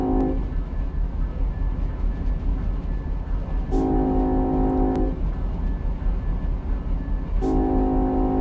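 A train rumbles steadily in the Run8 train simulator game, its continuous heavy engine drone broken by two long, loud horn blasts of about a second each, a few seconds apart.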